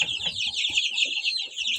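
Two-week-old Kuchinsky chicks peep and chirp in a steady, high-pitched chorus, close and fairly loud, with soft scratching and pecking below.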